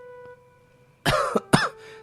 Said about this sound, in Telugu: ఆయన గదిలో దగ్గుతూ పడుకుని ఉన్నాడు